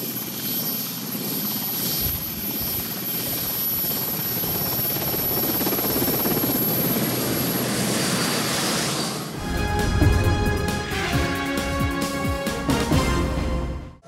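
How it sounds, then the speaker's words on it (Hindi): A Pakistan Navy helicopter flying over flood-hit Dadu gives a loud, steady rotor and engine roar throughout, with the sound changing to a harsher, more tonal mechanical drone near the end. "ये आपको पाकिस्तान नेवी के हेलीकॉप्टर से दादू के सैलाब ज़दा इलाके के मनाजर नज़र आ रहे हैं।"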